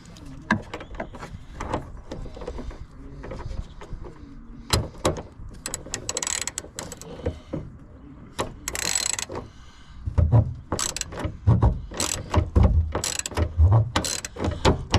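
A ratchet spanner works a 17mm bolt on the rear fuel tank strap of a Nissan 300ZX 2+2, giving repeated close clicking bursts with metallic clanks, louder and busier toward the end, with no speech.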